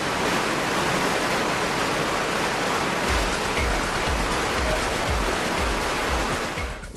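Five 150-horsepower turbine pumps push 850,000 gallons a minute into huge wave machine chambers, a loud, dense, continuous roar of rushing water with a faint low rhythmic thumping underneath.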